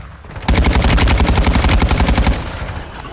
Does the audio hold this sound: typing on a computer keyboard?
no